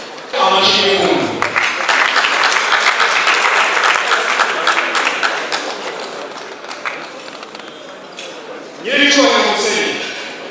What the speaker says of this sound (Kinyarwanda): Amashyi y'impundu.